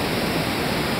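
A large waterfall pours down with water spray drifting across, making a steady, loud, unbroken roar of rushing water that fills the whole moment.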